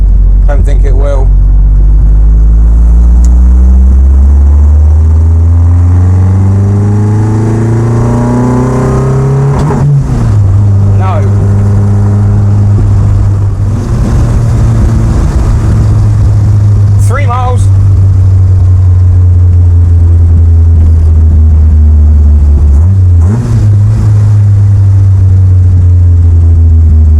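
An old car nicknamed HILDA idles steadily up close with a rising engine note, then revs up and settles back several times over the roughly half-minute run, with someone talking intermittently over the engine.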